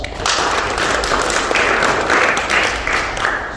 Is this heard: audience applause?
yes